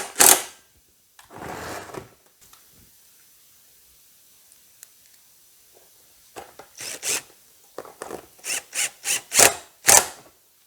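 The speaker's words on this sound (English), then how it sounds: "I've drilled holes and I'm putting screws in" Screws being driven into freshly drilled holes while assembling a homemade chicken plucker built from a washing machine, heard as a rubbing, rasping burst early on, then a run of rapid short grinding pulses toward the end, with no talking.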